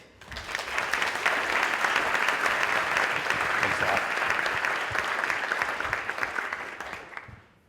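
Audience applause welcoming a keynote speaker at a Duke University energy conference: a full room clapping loudly and steadily for several seconds, rising quickly and tapering off at the end.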